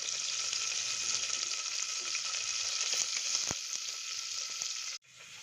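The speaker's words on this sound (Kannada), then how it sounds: "ಈರುಳ್ಳಿ, ಕರಿಬೇವಿನ ಸೊಪ್ಪು, ಬೆಳ್ಳುಳ್ಳಿ, ಸ್ವಲ್ಪ ಕೊತ್ತಂಬರಿ ಸೊಪ್ಪು ಹಾಕ್ತೀನಿ. ಇದೆಲ್ಲ ಸ್ವಲ್ಪ ಫ್ರೈ ಆಗಲಿ." Onion, curry leaves, garlic and coriander leaves frying in oil, a steady close sizzle with a single sharp clack midway, then an abrupt drop to quieter frying near the end.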